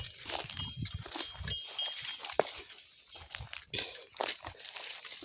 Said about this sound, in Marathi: बघा आपल्या शेळ्या